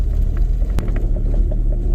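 A Jeep rolling over a bumpy road, a loud low rumble of engine and tyres with a sharp jolt or knock partway through and smaller rattles scattered around it.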